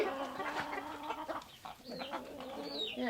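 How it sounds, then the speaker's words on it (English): Chickens cluck on and off over a farmyard background, with a faint chirp near the end, at moderate level and mostly without talk. "the chickens everywhere"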